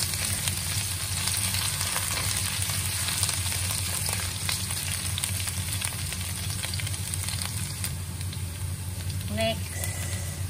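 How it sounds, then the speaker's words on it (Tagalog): Garlic and ginger sauté in a pan for a chicken breast and mixed vegetable stir fry, a steady close sizzle and fry with occasional stirring scrapes and a brief voice near the end. "mag-isa na tayo ng bawang at luya"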